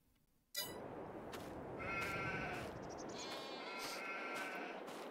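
Several sheep and lamb bleats ring out over a steady layer of background ambience in a farming video game, some calls overlapping, with a synthetic, game-like quality.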